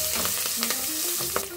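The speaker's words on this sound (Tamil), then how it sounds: "இது நல்லா முந்திரி பருப்பு வந்து கொஞ்சம் ரோஸ்ட் ஆகட்டும்" Cashew nuts fry in hot oil with asafoetida and curry leaves for coconut rice, giving a steady close sizzle with light scraping stirs and no talk.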